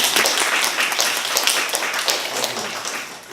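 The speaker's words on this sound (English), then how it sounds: "Would you like to give them a round of applause?" An audience at an academic paper presentation session applauds its presenters with a steady, dense wash of many hands clapping that fills the room, loud and continuous, then tapering slightly at the end.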